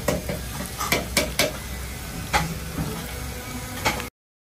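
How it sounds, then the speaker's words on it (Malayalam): Mussels fry in a pan at a riverside toddy shop in Mahe, Kerala, with a steady crackling sizzle broken by several sharp scraping and clattering strokes of a utensil. "ഇതെന്നാണ് വറക്കുന്നത്? ചിക്കൻ അല്ലേ? ഓ, കല്ലുമ്മക്കായ് വറുത്തതല്ലേ?"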